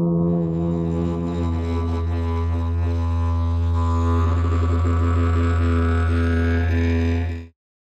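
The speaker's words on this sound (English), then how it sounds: "Here's the didgeridoo." A deep, continuous didgeridoo drone with rich buzzing overtones, loud and steady, its timbre shifting partway through before stopping abruptly.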